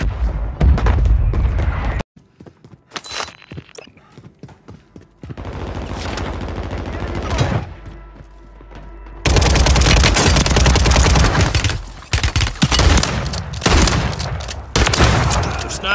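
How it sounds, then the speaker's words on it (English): Call of Duty battle with loud, near bursts of automatic gunfire and heavy explosive booms from a mortar strike, dense and continuous with brief lulls, and a voice speaking in the mix. "Friendly mortar strike inbound."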